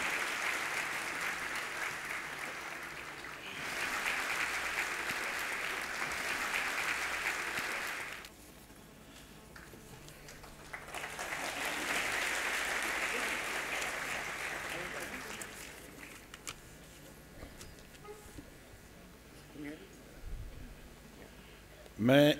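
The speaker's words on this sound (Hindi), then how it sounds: "तालियों की गूंज के साथ इस दीप प्रज्वलन को आपका शुभाशीष मांग रही हूँ" An audience at a lamp-lighting ceremony for a musical program applauds in two long, loud waves of dense clapping separated by a quieter gap, with faint background sounds in between and at the end.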